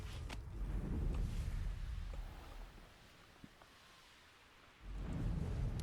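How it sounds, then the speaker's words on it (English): Rain falls in the wizarding video game Hogwarts Legacy, a soft, low rumbling patter with distant thunder-like swells at the start and end and a quieter stretch between. "Oh, it's raining."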